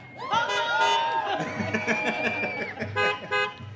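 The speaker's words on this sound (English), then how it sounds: "can I get a honk?" Several car horns honk at once at an outdoor fashion show, overlapping long toots and short beeps, with people talking and chattering in the background.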